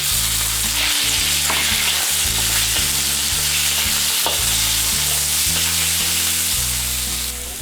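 Scallops sizzling loudly in a tablespoon of oil heated over high heat in a wok, a steady bright frying hiss with a few stirring clunks. Music plays underneath throughout.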